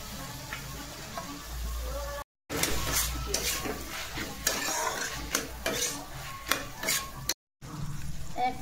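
Capsicum and diced onion stir-fry in a pan for chicken chow mein, giving a steady loud sizzle with repeated scraping and clattering of a spatula against the pan, close by, with two brief silent cuts.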